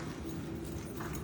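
A horse's hooves clip-clop at a walk during a ride, a faint and steady run of soft, even hoof falls against a constant hiss of background noise, with no talking.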